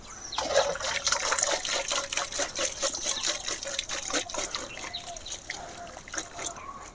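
Boiled chowmein noodles tipped into a strainer as the hot water drains off, an uneven run of close splashing and trickling pulses over several seconds, fairly soft, with no voices.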